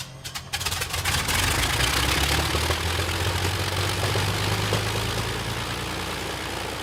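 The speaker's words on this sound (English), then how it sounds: "The Rolls-Royce Merlin engines receive their engine tests." Rolls-Royce Merlin aircraft engines run on a test stand, a loud continuous roar with a steady low drone and broadband rush that holds close and even throughout, with no talking.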